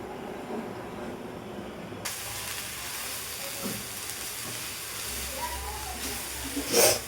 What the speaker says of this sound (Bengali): আমি সিদ্ধ করে নিলাম, তেলে ভাজবো না। হইতে থাকুক।